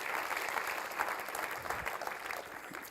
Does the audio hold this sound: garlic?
no